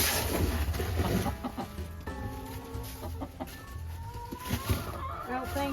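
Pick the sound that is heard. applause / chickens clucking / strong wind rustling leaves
chickens clucking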